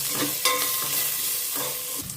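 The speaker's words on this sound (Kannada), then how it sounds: "ಅದನ್ನು ಸ್ವಲ್ಪ ಚೆನ್ನಾಗಿ ಆಯಿಲಲ್ಲಿ ಫ್ರೈ ಮಾಡ್ಕೊತೀನಿ ನಾನು." Fenugreek leaves and onion frying in oil in a pan, a steady close sizzle with stirring scrapes, alone without any talk.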